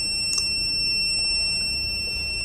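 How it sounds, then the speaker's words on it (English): A steady high-pitched electronic alarm tone from a microcontroller-based locker security buzzer sounds continuously at a constant level, with a brief faint click near the start. "so you can hear the buzzer sound directly."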